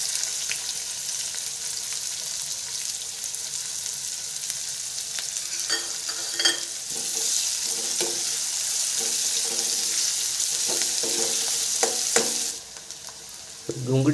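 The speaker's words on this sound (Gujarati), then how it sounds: "ડુંગળી આપણી સંતળાઈ ગઈ છે." Finely chopped onion sautés in a pan for Gujarati dal khakhara, a steady soft sizzle running throughout with intermittent stirring scrapes and clinks, then the hiss drops away near the end.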